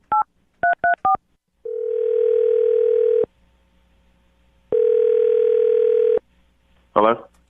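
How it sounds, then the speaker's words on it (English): A telephone's touch-tone keypad beeps out a number in short double-tone bursts, then a steady dial-type tone sounds twice in long stretches, ending with a brief ringing blip. "I'm going to dial his phone number right now and see if we can get him on the phone"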